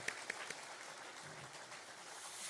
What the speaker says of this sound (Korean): 우리 다시 한번 영광의 박수를 하나님께 올려드리도록 하겠습니다.